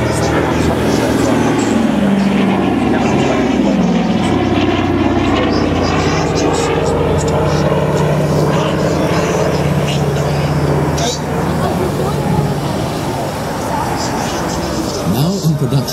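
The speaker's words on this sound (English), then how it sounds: "Airplane accelerating rapidly now." A Douglas DC-3 Dakota propeller airplane performs at the Belgian Air Force Days 2014 air show, its loud engine drone steady and close throughout while an announcer talks over it.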